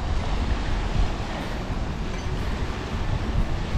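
Strong wind blows over sea waves at the Rewa spit on the Baltic coast, a steady, loud rush with rumbling microphone buffeting and no voices.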